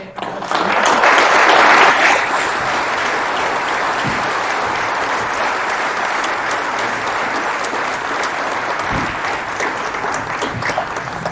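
Sustained audience applause for a panel of speakers, loud and steady throughout, swelling at the start and then holding an even, dense patter of clapping from the crowd.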